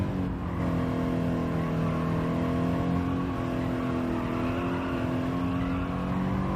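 A heavy car in Gran Turismo 7 drives with a steady, loud engine drone throughout, holding a fairly even pitch with slight rises as it pulls, alone with no talk.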